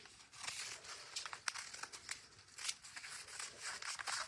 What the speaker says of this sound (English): just so I cut the tape off